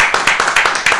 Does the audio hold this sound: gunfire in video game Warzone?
no